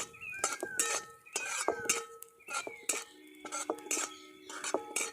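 Sesame seeds dry roasting in a pan, stirred with a spoon, give a close, dry scraping and clinking of metal on metal that comes in repeated bursts, with no speech.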